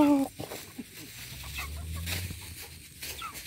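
Soft, scattered clucking from chickens close by as they are fed rice, mixed with low rustling and background noise.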